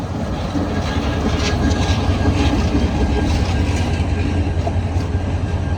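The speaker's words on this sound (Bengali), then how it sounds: "যে ট্রেনটি প্রবেশ করলো এটির নাম হচ্ছে দোলন যাবে পঞ্চগড়" The Dolon train, bound for Panchagarh, pulls into Kaunia Junction station with a loud, continuous rumble and clattering wheels, steady and close throughout.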